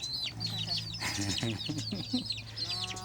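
Chickens and ducks settle into an evening coop on a vegetable farm, several hens clucking and murmuring continuously over high chirping from chicks, with a person's voice speaking softly among them.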